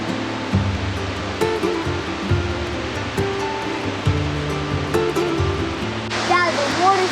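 Steady, rushing roar of Wallaman Falls, Australia's highest single-drop permanent waterfall, fills the whole stretch, loud and close, with faint voices murmuring underneath.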